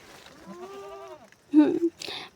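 A goat being given grass to eat lets out a clear, wavering bleat at close range, followed by a couple of shorter, louder calls and rustling.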